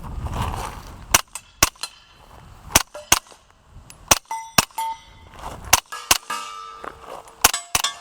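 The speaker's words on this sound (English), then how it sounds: "Shoot that one plate again because you missed on the second." Sharp pistol shots from a Grand Power Stribog ring off steel plate targets at an outdoor range, about a dozen separate cracks spaced irregularly over eight seconds, each followed by a bright metallic clang.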